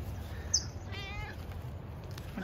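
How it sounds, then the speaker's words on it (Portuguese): A cat meows once, softly and briefly, near a cabin by the coast at Punta del Diablo, Uruguay, over steady outdoor background noise. "Tem um gato muito fofo."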